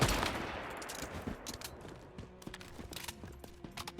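Pistol shots in the video game Once Human, a run of sharp, fairly quick reports over a busy game soundscape, fired in short bursts with no talking.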